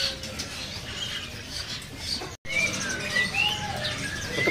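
A male white-cheeked Hong Kong hwamei at a bird-selling kiosk gives several bright, whistled chirps, clearer in the second half, over a busy background of other birds and market noise.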